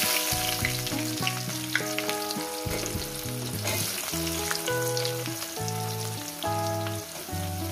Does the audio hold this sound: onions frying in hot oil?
yes